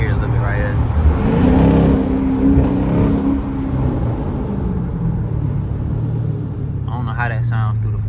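A Dodge Challenger with its muffler removed gives a loud, deep, continuous exhaust rumble with a swell early on, heard up close while a person talks over it.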